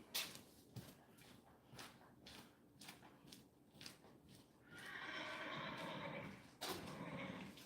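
A horse squealing and whinnying, with a loud, drawn-out neigh in the second half, over a string of hoof clops and stamps on the ground nearby.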